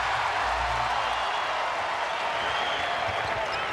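An arena crowd roars steadily through an NBA game between the Cleveland Cavaliers and Toronto Raptors at the Air Canada Centre in 2004. The sustained broadband noise stays loud and continuous with scattered clapping and a low rumble underneath.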